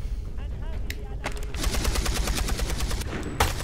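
Gunfire in the video game Beyond: Two Souls, sustained rapid automatic shots over a rumbling battle background, loud and close, with brief talk mixed in.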